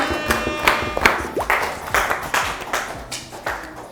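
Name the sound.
classmates clapping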